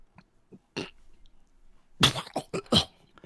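A few short, harsh coughs burst out close by after some faint scattered noises, with the strongest fits clustered together at the end.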